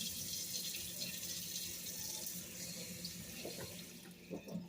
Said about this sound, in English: run some cold water over there